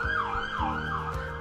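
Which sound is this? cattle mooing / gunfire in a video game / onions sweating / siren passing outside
siren passing outside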